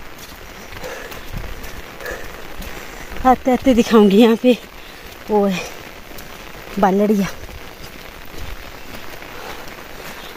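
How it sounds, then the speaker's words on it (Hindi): Steady rain hisses in the background while someone speaks a few short phrases over it. "और अब भी बारिश लगी है"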